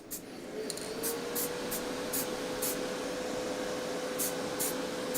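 A spray can hisses steadily as it primes a Warhammer 40k Canis Rex model inside a spray booth. The extraction fan hums underneath, and short hissing bursts repeat near the mic.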